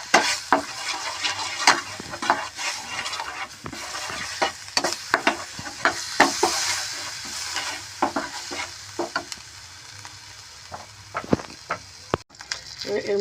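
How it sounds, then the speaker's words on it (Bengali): Coriander, cumin and chili powders with ginger garlic paste stirred in a pan, giving frequent sharp scrapes and taps of the spoon over a steady sizzle, close and alone. "এটা আমি একটু ভালো করে নেড়ে নেবো।"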